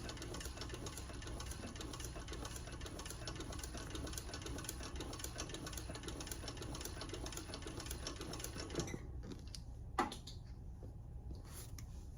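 A sewing machine stitches a seam on a leather-style divider handbag, a steady close whirring run for about nine seconds before stopping abruptly, followed by quiet and a single small click.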